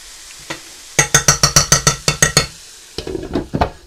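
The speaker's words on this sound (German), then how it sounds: "Den lasse ich jetzt noch kurz brutzeln." Food in a frying pan, with a quick series of about ten sharp, bright clinks and taps in a steady rhythm, then a few softer scrapes, close and loud, with faint sizzle between the hits.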